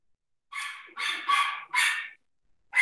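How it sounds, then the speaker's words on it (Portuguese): A dog barks in a quick run of four loud, close barks, then starts a fifth at the end, with no talk over it. "Tem cachorro para fazer barulho."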